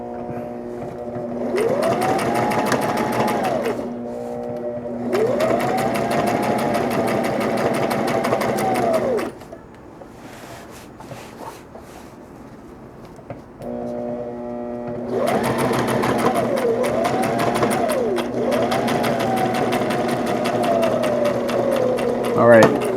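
A sewing machine stitches fabric for a Green Lantern costume, its motor whining in two long runs that rise and fall in pitch, separated by a quieter pause of several seconds.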